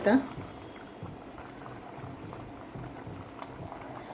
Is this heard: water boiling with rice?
yes